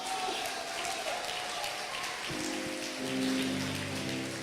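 A church congregation claps in a dense, steady wash of applause that carries through the whole stretch, with sustained organ-like musical tones rising under it partway through and a faint voice in the background.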